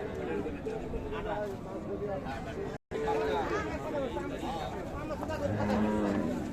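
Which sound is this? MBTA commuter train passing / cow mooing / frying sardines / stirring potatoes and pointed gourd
cow mooing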